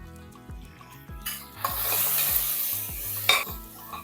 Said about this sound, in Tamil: இதை நல்லா வதக்கிக்கோங்க இதில் ஒரு ஸ்பூன் அளவுக்கு இஞ்சி பூண்டு பேஸ்ட்டு